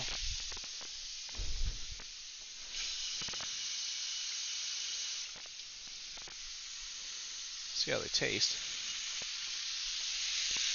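Freshly flipped, tightly packed bison burgers sizzle steadily on a griddle, a close hissing fry with scattered crackles and a few louder bursts, while someone speaks briefly over it.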